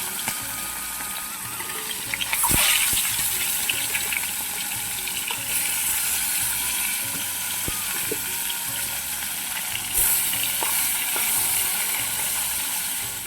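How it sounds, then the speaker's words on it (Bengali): Fish rubbed with salt and turmeric fries in hot oil in a wok, a loud, steady close sizzle with occasional sharper crackles throughout. "তেলও দিয়ে দিয়েছি। এবার মাছগুলোকে ভেজে নেব।"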